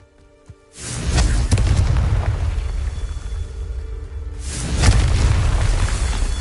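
A Confringo fire spell explodes in the Hogwarts Legacy video game: a loud, deep boom with a sustained rumbling blast, followed by a second explosion a few seconds later, with no talking.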